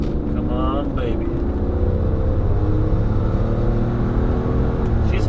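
A 1999 Rolls-Royce Silver Seraph at full throttle, heard from inside the cabin as a smooth, steady low engine drone with road hum, and a voice briefly near the start.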